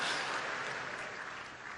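A stadium crowd applauds in a dense, even roar of clapping heard from a distance, steady and fairly quiet throughout.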